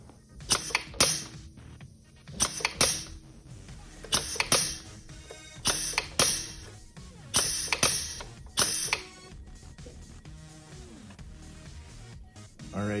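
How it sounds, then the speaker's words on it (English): Pneumatic cylinder cycling on a control trainer, its stroke speed throttled by a needle-type flow control valve: a string of sharp clacks and hisses in pairs, repeating at a steady rhythm and then slowing, close and fairly loud with no talking. "You can see the rate of stroke changes as the needle position changes on the flow control valve."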